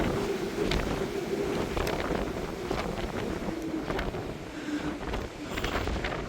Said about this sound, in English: Man, it is very windy up here.